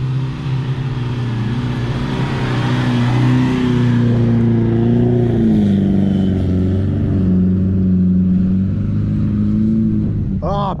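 Mitsubishi Triton driving on sand dunes with the throttle floored, its engine roaring in a sustained, loud, strained drone whose pitch wavers up and down, with a voice heard over it.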